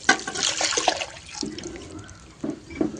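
Pea-pod cooking water pours and splashes into a pot in bursts, with gurgling and a few drips between pours.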